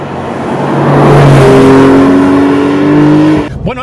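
A 2019 Porsche 911 Carrera 4S of the 992 generation, with its turbocharged engine and PDK dual-clutch gearbox, accelerates hard up close. The loud, climbing engine note builds steadily, then cuts off sharply near the end.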